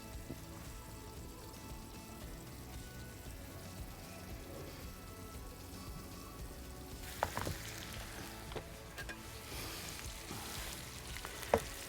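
Chicken juices and cider reducing in a pan inside a wood-fired oven give a soft, steady sizzle and bubbling, faint and continuous, with a few louder pops and crackles in the later part.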